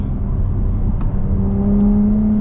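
A Cupra Ateca's engine hums loudly from inside the cabin as the car accelerates on kick-down, with a steady drone that rises and strengthens toward the end.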